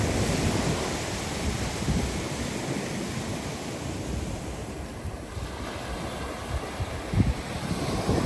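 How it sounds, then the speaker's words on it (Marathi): Strong sea waves crash and roll continuously at Uttan on the coast, mixed with gusty wind buffeting the microphone; no voices, a loud, steady roar. "समुद्राच्या इथे लाटा जोरात चालू आहेत"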